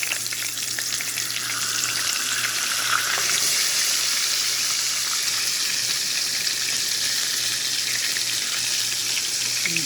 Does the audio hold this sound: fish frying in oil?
yes